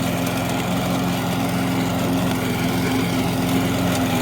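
A Troy-Bilt push lawn mower (model 11A-542Q711) chops through thick high grass, its engine droning loud, close and steady without a break.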